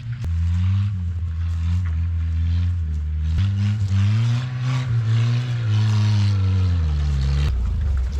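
A 1974 Datsun 620 mini truck engine idles low and loud, a steady close rumble with slight wavering in pitch and no talk over it.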